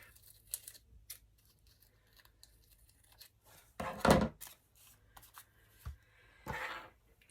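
Book page paper being trimmed for a craft project, with intermittent crisp cutting and rustling sounds, a louder snip-and-crinkle burst midway and another near the end, close and otherwise quiet.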